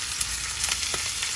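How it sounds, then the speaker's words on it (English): Salmon frying in a pan gives off a steady, close sizzle with crackling spits and no voices. "Now when it's frying, you want to cook it all the way through."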